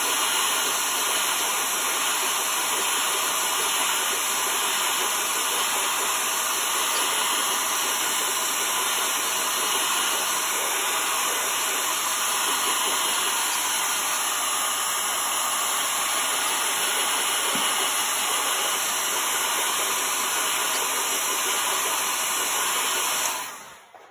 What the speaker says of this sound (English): we are going to blow dry this to make sure it's dry before we turn it